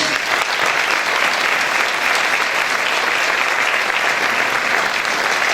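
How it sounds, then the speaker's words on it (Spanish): A festival audience gives the performers of a Christmas choral show a loud, sustained round of applause, dense crowd clapping holding steady from start to finish. "Así que, aplauso para eles."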